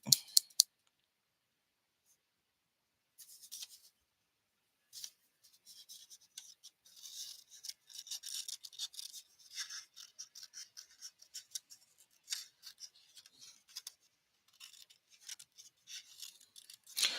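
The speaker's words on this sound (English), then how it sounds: "let's see if the scissors are still working pretty good." Repeated crisp snipping of scissors through paper, a quick run of cuts after a pause, close and fairly quiet with no talking.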